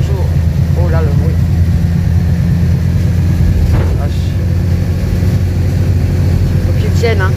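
A tow truck's engine runs steadily and loud in the rain at an Easter fair, a continuous low rumble that fills the whole stretch, with voices talking over it.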